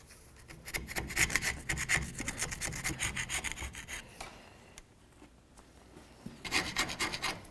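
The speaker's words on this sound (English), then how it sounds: "Go ahead and use your scraper. And this is the stuff we're going to get off." A hand scraper rasps old gasket material and rust off the rear differential housing of a 1992-99 GMC K1500 pickup, in close rhythmic strokes that pause for about two seconds before resuming.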